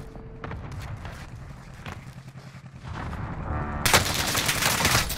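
Gunfire in the video game Call of Duty Warzone, with rapid automatic bursts and scattered shots cracking at close and middle range, and a sharp loud burst near the end.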